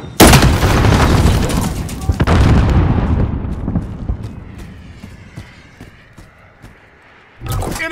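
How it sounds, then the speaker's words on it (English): A grenade blast in Call of Duty Modern Warfare gameplay: a loud, close boom with a long rumbling tail fading over several seconds, then a fresh burst of noise near the end. "Grenade out!"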